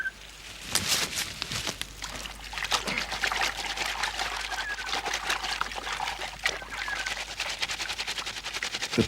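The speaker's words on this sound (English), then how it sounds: "The trick with this tree is to crush the leaves up in the water, and that way the sap is released." Soap tree leaves are crushed by hand in water, giving a continuous trickling and dribbling with small splashes, fairly close and alone without talk.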